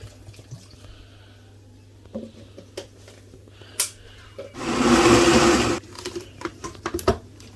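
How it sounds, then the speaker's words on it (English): A blender whirs loudly for about a second while blending ginger with water, amid scattered clicks and handling noises, then stops. "So I'm going to add water to help my blender."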